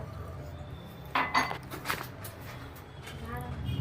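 A spoon works through dry flour and semolina in a bowl, giving a few bright clinks and scrapes against the bowl side in a short cluster near the middle, over a low, steady room hum.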